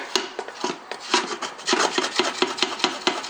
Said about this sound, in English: I've scraped everything off the bottom as best I can.